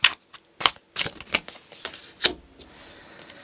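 Tarot cards being shuffled by hand, a series of crisp papery riffles and slaps in irregular bursts, close and clear with no talk.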